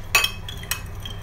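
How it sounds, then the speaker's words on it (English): Keratin hair treatment ingredients stirred together in a bowl: a couple of light clinks and scrapes of a utensil against the bowl, sharp and brief, over a quiet background. "So mix them together"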